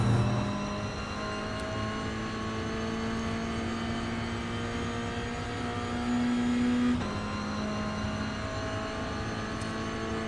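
Toyota GR86 race car in iRacing held at full throttle through a corner at Oulton Park, a steady loud engine drone with in-car harmonics, sustained and unbroken with a slight pitch rise near the end.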